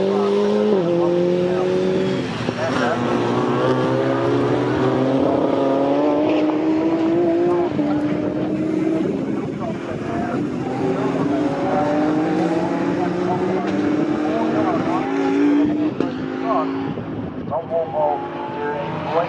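Race cars at Snetterton circuit roar steadily out of the final corner onto the centre straight, several engines layered with rising pitch as they accelerate, continuous and loud under a commentator's talk.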